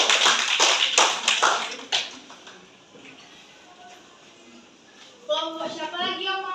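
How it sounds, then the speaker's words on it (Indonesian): Classmates in a school classroom give a short burst of applause for a presenting group, about two seconds of sharp claps before the room quiets and a teacher's voice speaks. "Boleh tepuk tangan dulu buat temennya"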